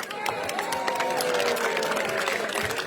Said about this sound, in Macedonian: Еден аплауз за најмалите